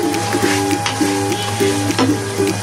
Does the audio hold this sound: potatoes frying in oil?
yes